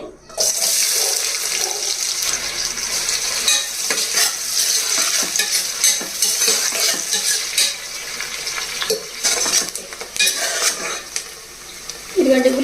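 Chopped onions hitting hot oil for an Andhra-style mutton and potato curry, a loud bright sizzle with stirring scrapes and clattering pan sounds, fading slightly toward the end.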